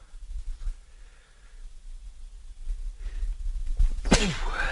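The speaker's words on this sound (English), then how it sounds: "I'm just sneezing like crazy" A single loud sneeze bursts out near the end, sharp and close, after a stretch of quiet room noise.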